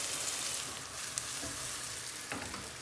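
Onions sizzle and fry steadily in a pan for a brinjal (aubergine) bhajee, a soft, continuous crackle with faint stirring and no talk.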